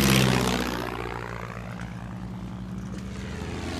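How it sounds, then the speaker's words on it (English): A propeller airplane passes overhead in a jungle setting, its droning engine loudest at first then fading into a steady, rough hum with a slowly shifting tone and Doppler sweep. "It's a fresh plane!"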